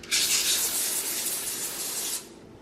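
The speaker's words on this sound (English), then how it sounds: "Spray your parchment." Cooking spray hissing steadily onto parchment paper in one continuous close burst lasting about two seconds, then cutting off.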